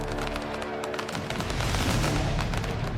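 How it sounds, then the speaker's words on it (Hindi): Police gunfire during protests in Paris, heard as rapid, dense cracks and booms that blur into a continuous loud roar from the middle of the clip onward. "तड़ातड़ गोलियां चल रही हैं, चारों तरफ धुआं धुआं हो गया है।"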